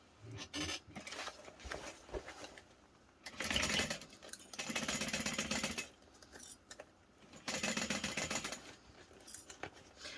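A home sewing machine stitches down the lining of a Lola garment in three bursts of steady mechanical whirring, separated by short pauses, close and fairly quiet, with no talking.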